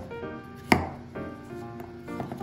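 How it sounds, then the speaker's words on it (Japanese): A single sharp knife chop through a May Queen potato on a cutting board, followed by quieter kitchen sounds, with no talking. "メイクインのじゃがいもを切っていきましょう"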